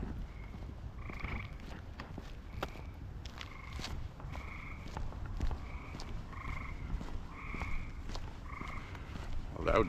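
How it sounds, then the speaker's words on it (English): Spring peeper frogs call at night in Maine, repeated shrill peeps in steady rhythm from several nearby frogs over a constant background of insects and footsteps. "Loud peepers tonight."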